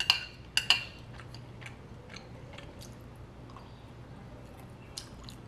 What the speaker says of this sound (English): I can't tell if these dumplings are just like super crunchy or if I didn't cook these all the way.